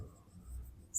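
Writing on a board during a maths lesson on sets, heard as soft, faint scratching strokes that end in a brighter, sharper squeak.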